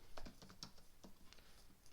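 Fingers tap out a short burst of typing on a computer keyboard, a quick run of light clicks played close and faint with no talking.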